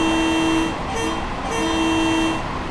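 Train horn of an M7A EMU commuter train on the Harlem Line in Train Sim World 4 sounds in two sustained tonal blasts separated by a short gap, loud and near, with no talking.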